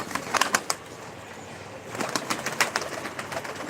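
Pigeons or doves gathering at feed in a garden, with bursts of wing flapping and scuffling close by, a quieter lull, then another flurry of flapping and pecking.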